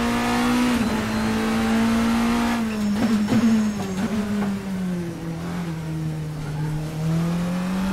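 Race car engine from the Assetto Corsa classic endurance mod revs loud and steady throughout, its pitch dipping and climbing through gear changes with a brief tire squeal, and no talk over it.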